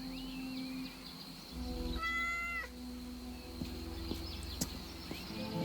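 A petted cat in the video game Yes, Your Grace gives a single clear, mid-length meow over steady in-game ambience, with faint clip-clop and scattered background noises around it.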